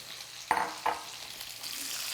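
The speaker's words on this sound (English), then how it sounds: "So we're going to put the garlic cloves into the skillet." Peeled garlic cloves are dropped into a hot skillet and start sizzling, with two sharp hisses followed by a soft, steady frying crackle close to the listener.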